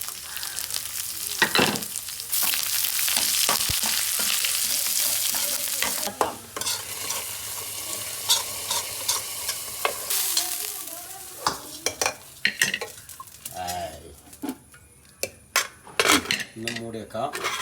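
Curry leaves, red chillies and shallots fry hot in oil for a Kerala pineapple pachadi, a loud steady sizzle at first giving way to repeated scraping stirs and clinks of a metal spoon against the pan.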